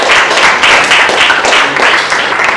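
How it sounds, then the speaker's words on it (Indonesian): A school class gives a presentation group a loud, steady round of applause, with many hands clapping together in a thick continuous patter. "kita kasih tepuk tangan sekali lagi untuk kelompok 4"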